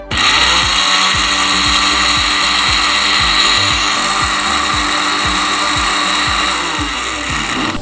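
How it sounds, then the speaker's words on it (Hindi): Electric spice grinder running continuously and loudly on spices and curry leaves for chaat masala, a steady high whine with rapid rattling pulses throughout. "जैसे कड़ी पत्ता जो है वो बिल्कुल ग्राइंड नहीं हो रहा था"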